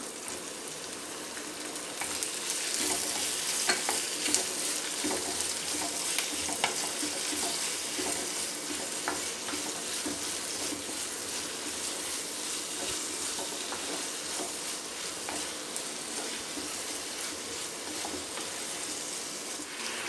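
Tomatoes frying in oil in a pan for a Tamil garlic curry, poondu kuzhambu, making a continuous soft sizzle with occasional light stirring clicks, fairly quiet and steady throughout, with no voices.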